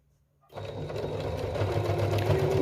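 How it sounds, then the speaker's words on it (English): Sewing machine stitching in the ditch along a quilt's double binding, starting after half a second of silence and then running as a steady, continuous motor whir with a fast needle chatter, close and fairly loud. "we continue stitching in the ditch where the two seam lines meet"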